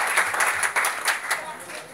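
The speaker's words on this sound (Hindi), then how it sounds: "कविता वाली ताली दीजिए तो एक साथ आती है।" An audience claps at a Hindi poetry recital with a burst of dense applause. Pulses of clapping rise and fall, then thin out and fade.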